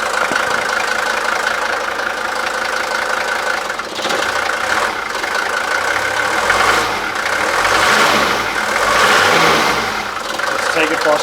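A cold Mercedes-Benz S123 300TD wagon's diesel engine idles with a steady, loud clattering knock and a slight rise in revs, while someone talks over it.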